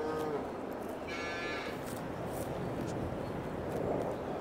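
Cattle moo in the video game Farming Simulator 22, one long drawn-out low call over a continuous rumbling farm background, fairly faint and with no talking.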